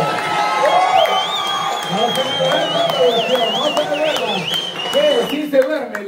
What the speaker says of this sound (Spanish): ¡Aplauso para la familia Barrientos!